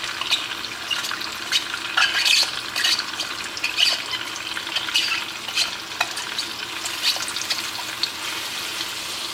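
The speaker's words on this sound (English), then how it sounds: "So we're going to add this to the butter that's over here sizzling." Apple pieces sizzle and fry in hot butter in a pan while a scraper stirs and scrapes, producing a steady crackle with intermittent scraping strokes, close up and moderately loud.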